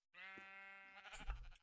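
A single drawn-out sheep bleat from a blocky Minecraft sheep, steady and clear, ending in a brief soft thump, with no talking.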